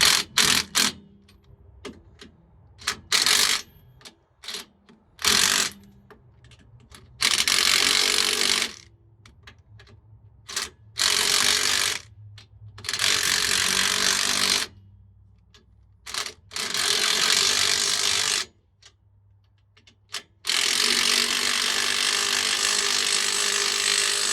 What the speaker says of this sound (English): if you ain't got you one of these little snap-on impacts, go get you one